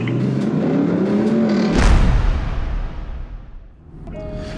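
Supercharged 5-litre V8 in a Land Rover Defender 90 roaring under hard acceleration, a loud rising engine note that cuts off abruptly and gives way to a whooshing fade, with a faint tone returning at the end.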